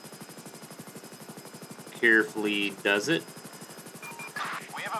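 A rescue helicopter in GTA 5 approaching to land, its rotor chopping in a steady rapid pulse while people talk over it.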